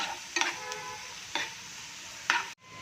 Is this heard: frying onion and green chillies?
yes